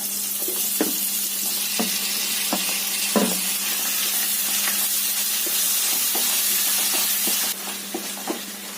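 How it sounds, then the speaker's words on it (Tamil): Tomatoes sauté with browned onions in a pan for a chicken gravy, a steady close sizzle with a hissing wash and occasional soft stirring scrapes, alone with no talk. "தக்காளி கொஞ்ச நேரம் இப்படியே வதங்கிட்டு இருக்கட்டும்"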